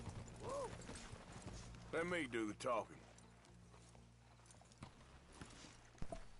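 Horse hooves clip-clopping in the Red Dead Redemption 2 video game, a faint steady walking rhythm under bursts of character speech and a short horse snort.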